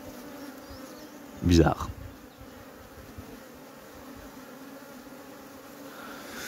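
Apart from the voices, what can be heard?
honeybees buzzing at a hive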